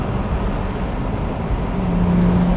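A 2010 Porsche 997 Turbo Cabrio with 500 PS accelerating hard, its engine and exhaust a dense, loud roar that swells steadily with a rising whine near the end.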